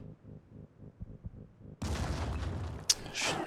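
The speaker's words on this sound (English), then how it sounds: "Grenade launcher, yeah." A grenade launcher fires in the tactical video game Phoenix Point, a sudden booming blast with a sharp crack and rumble after a quieter lead-in.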